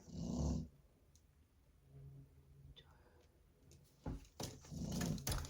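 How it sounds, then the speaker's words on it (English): A dog snoring indoors, low rumbling snores that come and go faintly, with a louder burst at the start and again near the end, partly mixed with soft noise. "I'm so sorry about this snoring. She's just extra today."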